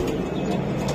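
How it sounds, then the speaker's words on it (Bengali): Racer pigeons coo in a low, continuous murmur close by, steady and fairly loud against a busy background hum. "এটা কি কবুতর রে ভাই, এত সুন্দর কে এটা?"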